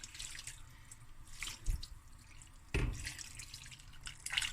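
Water poured into a pot of rice for lamb shank akhni, a soft trickling splash with a couple of louder gushes against quiet kitchen background.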